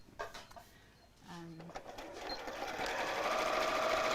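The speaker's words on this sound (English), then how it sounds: "I'm going to sew all the way around, but leave a turning gap in the side of the lining" A sewing machine stitches around a bag lining, starting with a short burst then settling into a steady whirring run that grows louder and continues to the end, with someone talking softly beforehand.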